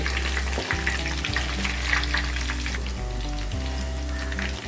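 Meal maker Manchurian fries in a pan with a steady, close sizzle, broken by scraping stirs at a few points as the pieces are turned.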